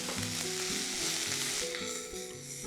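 Greens and onion fry loudly in a pan, a dense, continuous sizzle with faint clinks beneath, close and without any talking.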